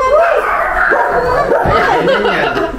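A dog gives a few close yips and whiny barks, with soft human chuckling and voices mixed in.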